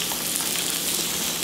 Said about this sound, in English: Grill the mushrooms up a little bit.